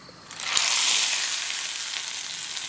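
Mustard seeds, curry leaves and a dried red chilli hit hot oil for a chutney tempering, and a loud sizzle bursts in suddenly. The hiss stays bright and sustained, fading only slightly, with no voices.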